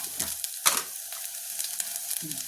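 Onion, tomato, red chili powder and homemade ghati masala fry in a pan for goat head curry, with soft sizzling and a few sharp stirring scrapes close by and no voices.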